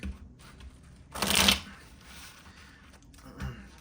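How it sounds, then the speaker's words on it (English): A quick riffle of a card deck being shuffled, one crisp burst up close in a quiet room, followed by a softer tap a moment later. "Just gonna hit this with a shuffle so we don't get cards from the last deck."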